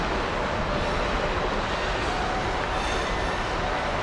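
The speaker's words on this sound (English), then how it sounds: "And we have another train." A train passes near the Port Clinton station on the Reading and Northern line, a steady broadband rumble of rolling wheels and railcars filling the scene evenly throughout, close and continuous with no voices.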